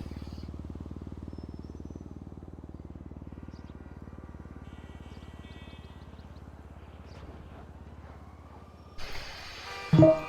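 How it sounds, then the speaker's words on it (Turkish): A vacuum cleaner runs in another room as a steady, muffled low drone that holds throughout, with a few louder knocks and bursts close by near the end. "Kim o süpürgeyi çalıştıran?"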